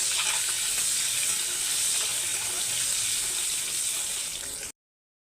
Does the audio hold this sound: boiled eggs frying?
yes